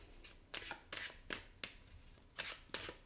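Tarot cards being shuffled and drawn, with several sharp, separate card snaps and flicks spaced about half a second apart, close up in a quiet room.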